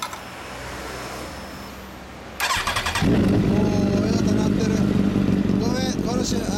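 A motorcycle with an aftermarket exhaust starts and idles with a deep, loud, throaty exhaust note, revving up a few times after a brief quieter stretch.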